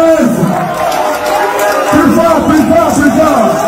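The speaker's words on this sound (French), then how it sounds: "Applaudissez pour prince!" Crowd noise from an audience at a casting event for Prince Babia, a dense roar of cheering and hubbub rising in the second half, loud and sustained, with voices mixed through it.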